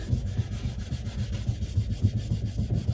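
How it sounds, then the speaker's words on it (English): A buffing pad is rubbed hard along a freshly waxed ski, starting at the tip, giving close, rhythmic scrubbing strokes in steady back-and-forth pulses. "And then I'm going to hit it with this buffing pad."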